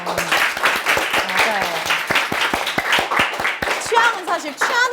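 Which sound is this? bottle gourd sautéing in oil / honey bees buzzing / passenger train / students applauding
students applauding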